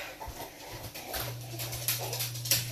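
A dog whimpers and whines in a home kitchen during cooking, a thin sustained whine rising near the end over faint scattered background noise.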